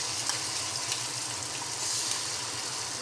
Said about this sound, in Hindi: और इसको 2 से 3 मिनट अच्छे तरीके से भून लेंगे